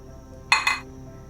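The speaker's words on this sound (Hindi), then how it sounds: "इसमें ये मैं सारी कैरियाँ डाल रही हूँ।" Raw green mango pieces dropped into a pot of water on a stove, two quick clinking knocks in close succession, close and brief, with quiet surroundings.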